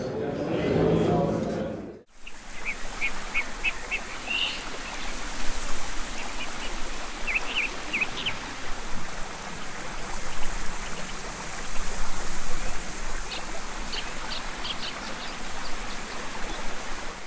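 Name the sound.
forest soundscape with stream and birds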